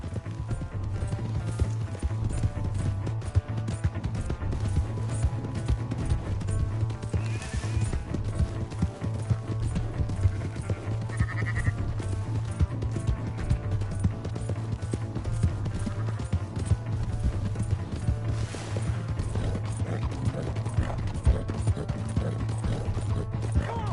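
A horse's hooves beat in a steady, continuous rhythm of clip-clop as it runs through the open world of the video game Red Dead Redemption 2, lasting the whole stretch at a moderate level under a low rumbling backdrop.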